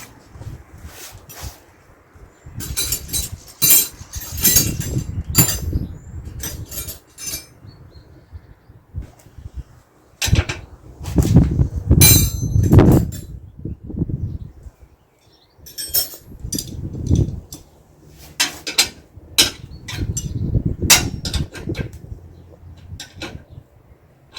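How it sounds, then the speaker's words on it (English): Metal tools clink and scrape in repeated bursts as a spanner is worked on fittings of a boat's new deck, with short gaps of quiet between clusters of knocks, close and moderately loud. "Let's try it with a spanner."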